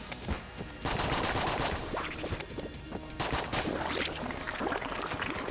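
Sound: Hegemony carbine rifle gunfire in video game Enter the Gungeon

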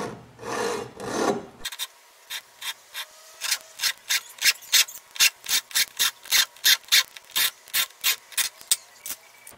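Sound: sawing a rubber door seal on a car

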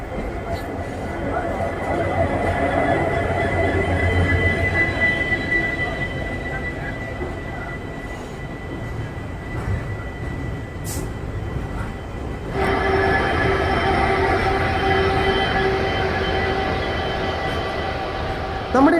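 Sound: train arriving at station platform

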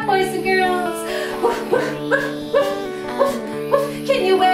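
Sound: children imitating a dog barking

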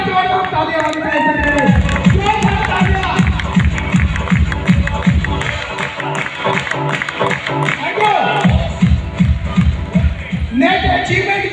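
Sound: audience clapping and cheering loudly

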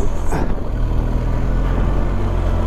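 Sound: car driving up Hardknott Pass in first gear

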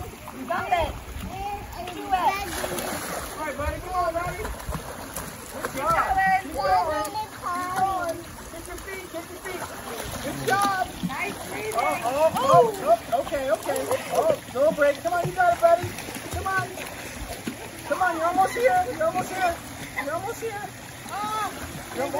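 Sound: child kicking feet while learning to swim, water splashing

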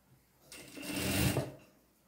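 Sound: sewing machine stitching a seam on trousers

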